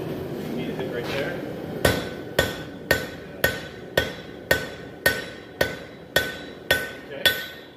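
A big hammer strikes hot metal on a forge, a dozen sharp ringing blows landing at an even, steady pace, close and loud over a faint background of shop noise.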